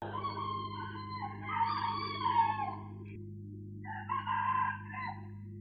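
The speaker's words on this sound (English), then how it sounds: "The roosters are crowing, which is a sign that it's time to wake up." Roosters crow twice in succession, their long drawn-out calls clear but moderately distant over a steady low hum, with a pause between the crows.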